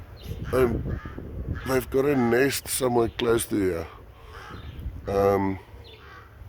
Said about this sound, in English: There comes the crow.